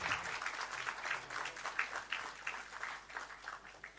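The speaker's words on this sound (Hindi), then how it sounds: "आप सबकी तरफ से हम जोरदार तालियां जरूर चाहेंगे स्वागत स्वरूप।" An audience at a student parliament inauguration event in Jharkhand applauds steadily in a welcoming ovation, dense continuous clapping at moderate level with no talk over it.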